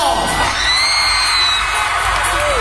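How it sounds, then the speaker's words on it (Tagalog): Concert crowd cheering, whooping and shouting at a live event, a loud continuous roar of many voices that carries steadily through the whole stretch. "Yung mga nasa taas, pwede bang parinig ako ng hiyawan ni Nerjan"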